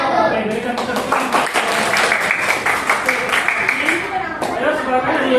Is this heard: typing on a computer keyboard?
no